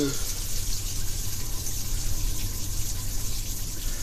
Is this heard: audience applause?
no